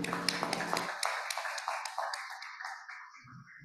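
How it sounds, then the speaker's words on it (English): Panelists at a data sharing policy session clap for the audience, a faint, thin patter of hand claps that thins out and fades over a few seconds. "we are going to clap for you"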